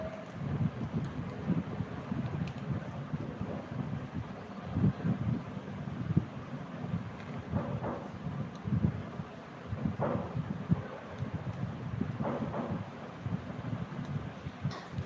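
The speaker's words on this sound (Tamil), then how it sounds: "புயலை கூப்பிட்டேன் தான், ஆனால் இப்படியா புயல் வர்றது?" Stormy wind roars and gusts steadily for the whole stretch, a dense low rumble with periodic louder surges, no voices heard.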